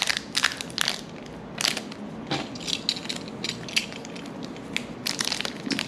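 A blade slices open a foil Goodwin Champions trading card pack wrapper, making a series of crisp crinkling and scraping bursts that come in irregular, close-up strokes with brief gaps between them.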